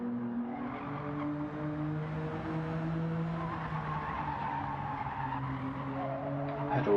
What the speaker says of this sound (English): I just heard absolute tyre squealing chaos and carnage